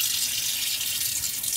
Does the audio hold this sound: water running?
yes